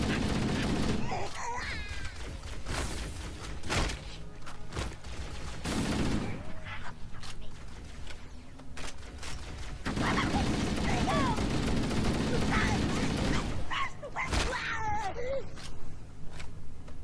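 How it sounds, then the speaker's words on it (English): Dense, continuous weapon fire in Halo: Combat Evolved Anniversary keeps up a loud clattering barrage with squealing alien creature cries mixed in, while a voice talks over parts of it. "Shooting these things never gets old"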